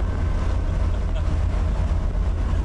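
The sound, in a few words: Nissan 200SX engine revving while driving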